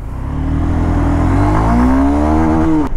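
A Honda Hornet 2.0 motorcycle accelerates hard, its engine note climbing loudly and steadily through the revs before cutting off abruptly at the end, close and alone.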